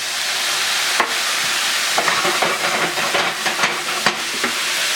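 Turmeric chicken and garlic sizzle in a hot pan as they are stirred and splashed with tamari, a steady hiss broken by sharp scraping strokes and bursts of spitting, close and loud.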